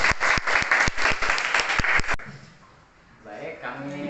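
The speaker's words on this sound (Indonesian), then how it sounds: "Tepuk tangan dulu semuanya." Audience applause after a school professional-learning session, sharp close claps for about two seconds, then cut off to quieter room tone and a voice starting to talk.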